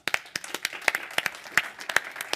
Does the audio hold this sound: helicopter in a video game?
no